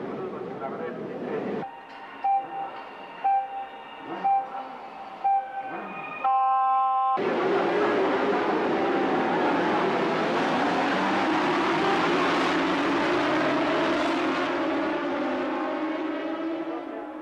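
Thirty racing motorcycles starting a race at Suzuka Circuit: a few countdown beeps, then a sudden, sustained roar of many engines accelerating together, loud and dense throughout.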